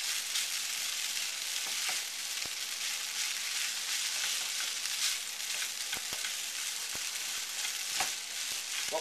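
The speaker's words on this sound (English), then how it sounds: "So we're going to fry these up just a little bit." Noodles fry in a hot pan with a steady, bright hiss of sizzling oil and occasional soft clicks and taps, close and uninterrupted with no talking.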